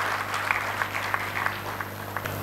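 Applause from the audience at an international conference on Buddhism in India, a light, moderately distant clapping with scattered sharper claps over a steady hum of room noise.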